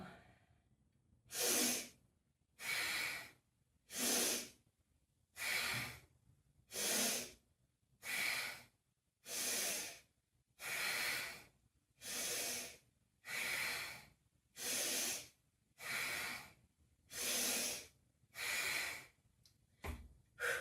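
Bellows breath, rapid forceful breathing in and out through the nose, heard as a regular series of about fifteen sharp, loud rushing breaths spaced evenly with short pauses between them, close by and alone.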